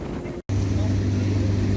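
A passenger motorboat on Lake Atitlán runs with a steady low engine drone and rushing wind, broken by a brief dropout, and a voice speaks over the noise.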